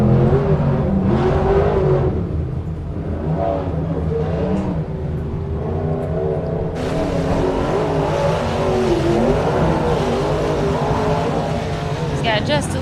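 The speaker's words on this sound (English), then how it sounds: "He's got just a little bit of horsepower, a little bit of NOS boosting him up this hill." A 1000 hp rock racing buggy on nitrous oxide climbs a hill at Windrock Park, its engine a loud, sustained, rough roar that stays close throughout, with a brighter, harsher burst in the second half and voices talking over it.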